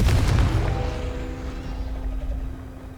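A Confringo fire spell explodes in the video game Hogwarts Legacy, with a loud, close blast that hits at once and then fades into a rumbling tail.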